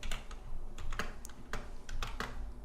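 Keys clacking on a computer keyboard as the letter A is typed, a sparse run of sharp separate clicks with a few louder strikes over a low steady hum, no voice.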